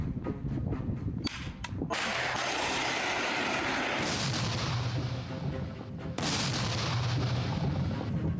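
A series of sharp, loud blasts of heavy tank gunfire echo in sequence, each followed by a rolling rumble, with no voices.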